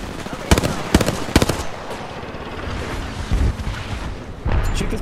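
Gunfire in an Apex Legends match: sharp shots, some in quick bursts, crack out loudly over a rumbling background, with a few later hits landing farther off.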